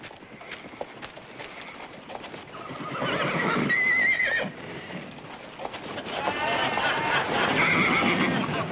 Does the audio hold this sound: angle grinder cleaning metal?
no